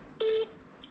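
A telephone keypad tone sounds during a prank call, one short clear beep followed by quiet and a faint second blip.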